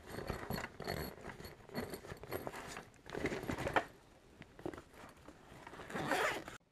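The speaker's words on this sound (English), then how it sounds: "after undoing that zipper, this part comes off" A backpack zipper, on a Bass Pro Extreme Qualifier 360, pulled open in several long, rasping strokes with pauses between, close and fairly quiet.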